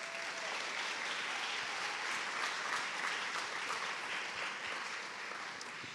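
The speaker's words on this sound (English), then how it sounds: "I want everybody to give you a round of applause" An audience claps for North Star employees at an event, a steady dense round of applause from many hands, loud and continuous without a break.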